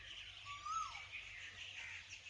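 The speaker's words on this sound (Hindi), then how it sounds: "लगता कोयल नूं समझ आ गई है" Asian koel calling outdoors at a historic site in Gujranwala, a single clear rising-falling whistled note, moderately near, over steady background hiss.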